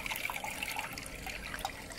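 Water trickles and sheets evenly across a Miller table used for fine gold recovery, fed through miner's moss and a small calibrated opening, a soft steady close dribble with no voices.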